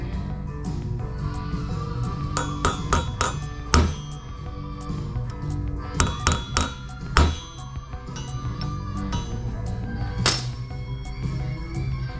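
Sharp metallic taps of a center punch hammered into a steel 350 crankshaft ring out in irregular clusters, several quick strikes then pauses, close and distinct over a low steady shop hum.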